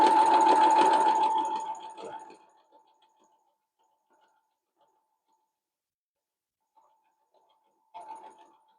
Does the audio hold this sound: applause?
no